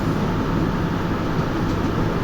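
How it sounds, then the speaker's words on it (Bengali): Train from Khulna toward Kashiani running at speed, a loud steady rumbling roar of wheels and carriage noise heard close up from aboard, with no talk. "আমি খুলনা থেকে কাশিয়ানি পর্যন্ত ট্রেনে ভ্রমণ করার উদ্দেশ্যে বের হলাম"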